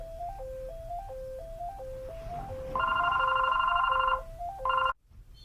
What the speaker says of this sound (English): I got a phone call in the middle of this thing